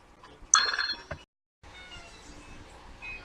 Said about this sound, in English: I got interrupted by a phone call from my mother.